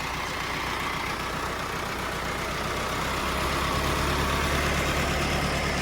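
Close and loud, a tractor's diesel engine strains to pull a trolley over soil, holding a continuous heavy rumble that swells slightly toward the end, with no voices.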